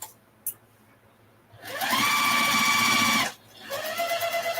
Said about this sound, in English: I like to do just a little bit of a back stitch when I start these rows.